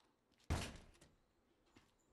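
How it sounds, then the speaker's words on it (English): A door is bashed in the video game Days Gone: one heavy, booming thud lands abruptly and rings out in a slowly fading rumble, followed by faint scuffing and a small knock. "Stop bashing doors, they're gonna hear you."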